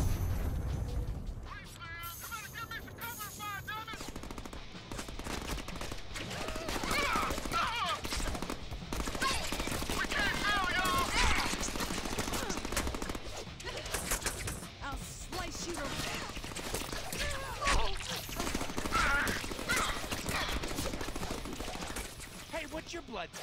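Covering gunfire in the Deadpool game, bursts of rapid shots and mechanical clatter running through a busy action mix, with voices talking over parts of it.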